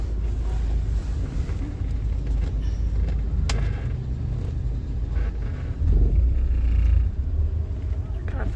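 A deep, steady rumble of highway traffic near Daman is heard from inside a moving vehicle, with wind buffeting and faint talk beneath.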